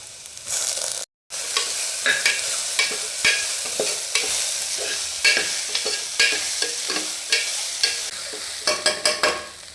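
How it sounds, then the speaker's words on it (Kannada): Sprouted horse gram and grated coconut fry in a pan, a steady sizzle broken by frequent scraping stir strokes, with one brief dropout near the start; close and loud, no talking. "ತೆಂಗಿನಕಾಯಿನೂ ಇದಕ್ಕೆ ಹಾಕಿ ಅದನ್ನು ಸಹ ಫ್ರೈ ಮಾಡ್ಕೋಬೇಕು"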